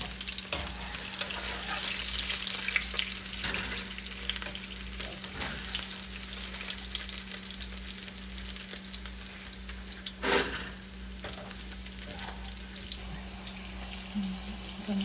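Chicken pieces fry in oil with a steady, loud broadband sizzle and hiss throughout, broken by a brief clatter near the end as the pieces are lifted out.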